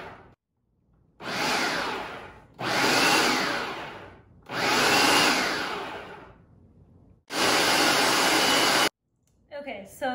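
A blender runs in four long bursts of roughly one and a half seconds each with short silent gaps, loud and close, whirring through roasted red bell peppers as they are pureed for ajvar.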